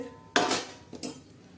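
A spoon scraping and clinking in a cooking pot while black masala is stirred, with two short bursts of metallic scraping about half a second apart, close and moderately loud against a quiet kitchen background.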